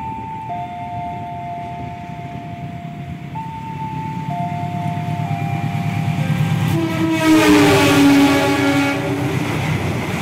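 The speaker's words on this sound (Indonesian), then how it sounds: "Kereta api Argo Sindoro." The Argo Sindoro express train approaches and passes, sounding long, loud horn blasts that drop in pitch as it nears, followed by the rising rumble and clatter of the wagons rolling close by.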